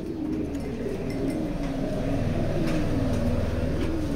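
Racing pigeons, some of them down-shape birds, coo steadily in a loft, a dense, continuous low murmur of many birds at once, close and fairly loud.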